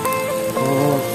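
Rain falls steadily on an outdoor riverside camp during a survival fishing trip, a dense, even hiss of drops on surfaces with no pauses.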